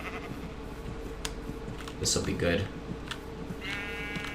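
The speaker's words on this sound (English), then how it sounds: "Yeah, let's get some sheep." Sheep bleating in the video game Minecraft, a short wavering bleat near the end, while someone talks over steady game background and faint clicks.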